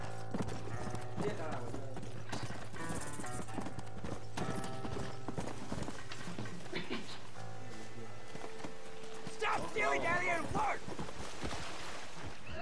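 Horse hooves clip-clop steadily in the Red Dead Redemption video game, rhythmic and clear, mixed with game sounds, a brief whinny and someone talking.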